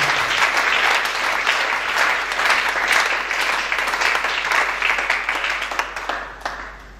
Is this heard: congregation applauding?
yes